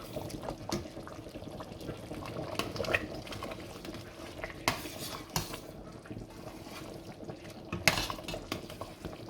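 Food is stirred in a pot with a metal utensil, giving soft irregular clinks and scrapes against the pot with some liquid sloshing, fairly quiet and close, with faint background voices.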